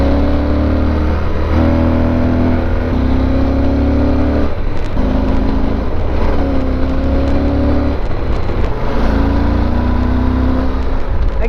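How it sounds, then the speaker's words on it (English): A Yamaha Super Tenere motorcycle accelerates out of corners on a twisty road, its engine loud and close, rising through repeated revving surges with short gear-change dips and no talk. "this bike, is that I can go slow, try and keep in the speed limit, and then just kind of like have some fun by bursting out of the corners"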